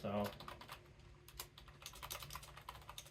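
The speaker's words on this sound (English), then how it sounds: "Let's do one more typing test on this position" Rapid typing on a computer keyboard set on a Yikola keyboard stand, a steady stream of soft close clicks and key taps with faint voice underneath.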